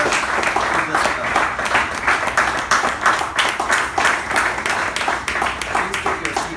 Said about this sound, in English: Please give the outgoing officers a round of applause for the wonderful service they have rendered to this club.